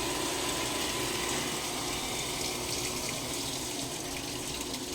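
Water rushes steadily into a Samsung automatic washing machine as it fills, a constant loud hiss and splash with no voices.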